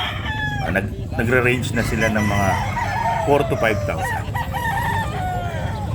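Several roosters crow repeatedly at a pet market in Bocaue, overlapping cock-a-doodle calls near and far amid clucking fowl and market bustle, with someone talking over them.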